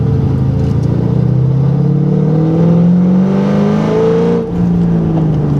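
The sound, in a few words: stock 3V Ford Mustang engine revving and accelerating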